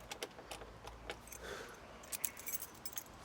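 Small American car keys jangle close by in a few quick metallic bursts, shaken near a long-stored classic Ford barn find, with faint background noise between the jingles.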